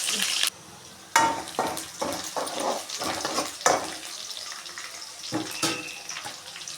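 Ingredients sautéing in a pan for a village-style lablab bean, plantain and dried fish curry, with a gentle sizzle broken by bursts of spoon scraping and clattering stirs, close and moderately loud.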